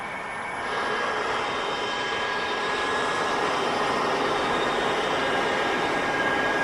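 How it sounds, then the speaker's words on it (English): A Tupolev Tu-154 jet engine starting up in the X-Plane 12 flight simulator swells after a moment into a loud, steady roar with a thin high whine running through it. "They haven't actually put in volume controls for the engine, which is a little extreme."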